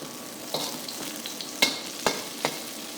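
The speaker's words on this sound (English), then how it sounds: "Fry all this till they are fragrant." Aromatics and spring onions for a shrimp stir fry frying in a pan, a soft steady sizzle broken by a few sharp stirring clacks and spatters, close and alone without talk.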